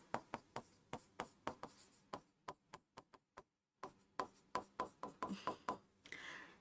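Chalk or marker taps and strokes across a classroom board during a chemistry lesson, a quick irregular series of sharp strikes with a brief pause partway through, near and fairly faint.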